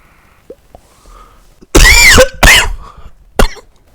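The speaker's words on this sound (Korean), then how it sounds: "왜 방송할 때 한 번씩 콜록거리는가" Two loud, harsh coughs close together, followed a moment later by a shorter single cough, with quiet breathing sounds before.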